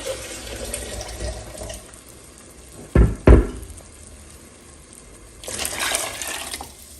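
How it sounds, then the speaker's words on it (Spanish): Water is poured into a drinking glass in a home kitchen during cooking, a short splashing pour that rises near the end after a couple of sharp knocks. "Le voy a agregar otro poquito de agua a mi vaso."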